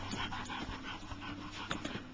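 A young English Bulldog puppy pants close up in quick, raspy, rhythmic breaths, with small whimpers and yips mixed in throughout.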